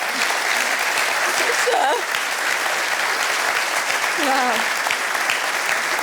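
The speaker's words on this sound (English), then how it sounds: "can I have your warmest applause?" Audience applause at an evening business awards celebration, a loud, sustained dense clapping from a large crowd that continues for the whole stretch, with brief voices exclaiming over it.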